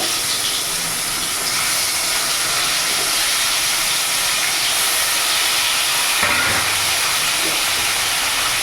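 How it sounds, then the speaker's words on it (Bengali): Pangas fish frying in mustard oil under a lid, a steady loud hiss and sizzle that holds unbroken from start to finish, with a brief thump partway through. "বাদ বাকি মাছগুলো আমি ছেড়ে দেবো তেলে"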